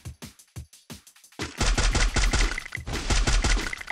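Gunfire in the video game Free Fire, first a series of separate sharp shots, then dense rapid automatic bursts with heavy low thumps, loud and close, no talking.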